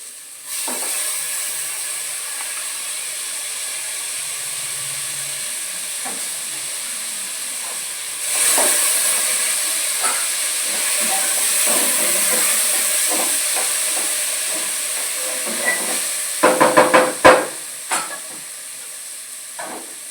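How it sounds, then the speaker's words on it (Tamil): Soaked basmati rice sautés in a pressure cooker with a steady close hissing sizzle that swells midway, and a few sharp clinks of stirring near the end. "குக்கரில் வந்து இதையும் சேர்த்துட்டு ஒரு 2 மினிட்ஸ் நல்லா வதக்கிக்க போகிறேன்"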